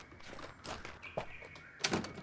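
Locked door in the horror game Who Is Abby rattling and thudding as it is tried, several short knocks and clunks over a faint ambient tone, the last one loudest.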